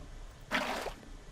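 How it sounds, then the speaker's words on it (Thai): A single short watery splash-swoosh, soft and brief, of water being placed in Minecraft, over a quiet background. "อันนี้คือเสียงวางน้ำครับ"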